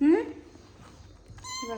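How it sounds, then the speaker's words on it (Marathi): A one-month-old kitten meows loudly and shrilly twice, once at the start and again at the end, with a brief spoken word from a person in between. "तर पहा आमची मांजरी किती ओरडती."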